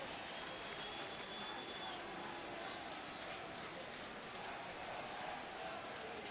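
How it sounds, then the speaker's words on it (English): A distant, steady roar of a baseball stadium crowd as Red Sox fans chant and others boo, a continuous faint wash of voices without clear individual words. "Collection of Red Sox fans chanting "Let's go Red Sox," and the rest of the crowd starting to boo"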